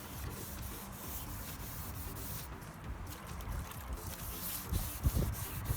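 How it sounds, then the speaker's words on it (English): A sanding block scrubs steadily over the silver body panels of a Porsche 944 being prepared for primer, a continuous close rasping rub with a few louder strokes near the end. "I've got James down here block sanding the silver car"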